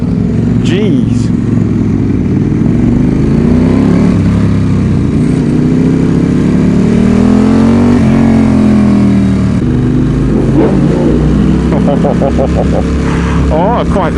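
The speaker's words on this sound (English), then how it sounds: "Oh, it does sound good, mine, Phil's bike." A sportbike engine, likely a Ducati, revving loudly and continuously close by, its pitch rising and falling through throttle blips, with people talking over it.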